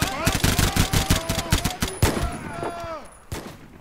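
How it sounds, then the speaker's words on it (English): Rapid machine-gun bursts and scattered rifle shots from a WWII video game, loud and rhythmic at first, then thinning into sporadic single cracks while voices shout over the firing. "They're shooting back at us."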